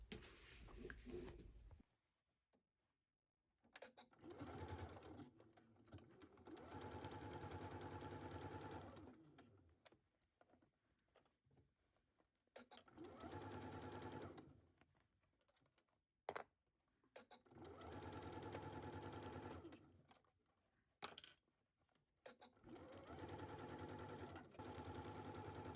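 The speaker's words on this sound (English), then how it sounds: "So we're going to take this to our sewing machine and sew it down at 5/8." A home sewing machine stitches a sleeve seam at a 5/8 allowance in several bursts of steady rapid needle clatter, separated by quiet pauses while the fabric is repositioned.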